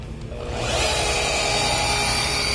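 A FLEX PE14-2 rotary polisher set to 600 RPM spins up from quiet and settles into a steady, close motor whir.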